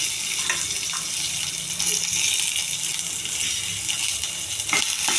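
Onions frying in a pan with chana dal, cumin, urad dal and curry leaves, a soft continuous sizzle and hiss at moderate distance, steady throughout with faint clinks and no talk.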